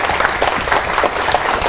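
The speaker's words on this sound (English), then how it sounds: "For a good round of applause for all the answers that came just now." Workshop audience in a health research methodology training session breaking into a round of applause, dense steady clapping that fills the whole stretch at close range.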